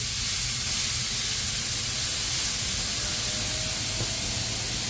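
Hamburger meat frying in a pan, a loud, steady sizzle and hiss that holds evenly throughout with no talk.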